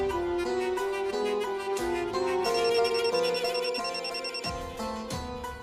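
A telephone rings on and on without being answered, a repeating electronic ringtone melody playing steadily at moderate volume with no voices over it.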